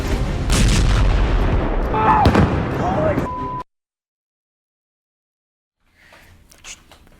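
Air strike explosions in Tehran: a loud, rumbling blast with crackling bursts for several seconds, then sudden silence, and faint distant noise afterward.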